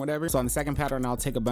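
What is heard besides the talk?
No everyday noises stand out.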